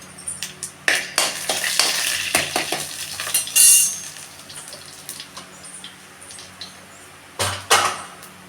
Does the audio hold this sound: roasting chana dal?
yes